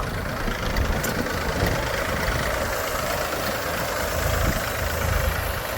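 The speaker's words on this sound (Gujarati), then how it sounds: "જો આ છે ટ્રેક્ટર ભૂમિપુત્ર" A Bhumiputra tractor engine running steadily on a farm, a continuous low rumbling idle with faint knocking texture, moderately distant and unbroken for several seconds, with no talking.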